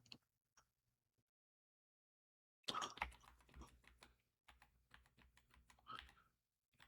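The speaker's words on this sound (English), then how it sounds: "I'm going to put in a password" Keystrokes tapping on a computer keyboard while a password is entered during a Rocky Linux install in a Proxmox virtual machine; a quick burst of close clicks after a silent pause, then a second run of taps.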